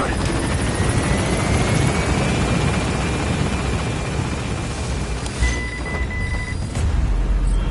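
The Pequod transport helicopter in Metal Gear Solid 5 climbs away from a landing zone with a loud, steady rotor roar throughout. A rising whine and a brief electronic tone sit on top of the roar.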